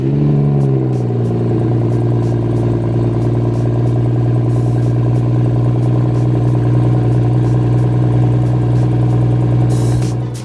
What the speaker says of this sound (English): I love the sound of my 340i. The inline 6 twin scroll single turbo